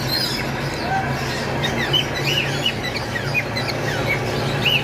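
Pet cockatiels in a cage give short, high chirps and calls over steady background hum, scattered across the moment and fairly close, with no clear talk.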